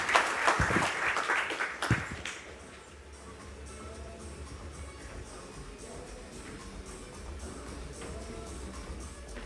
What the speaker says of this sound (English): let's give the panel a round of applause, please.